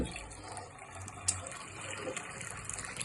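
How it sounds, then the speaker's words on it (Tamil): Water pours steadily into a household water filter, a continuous splashing fill with a brief clatter partway through, close and moderately loud, no voices. "இதில் தண்ணி ஊற்றி போகணும்"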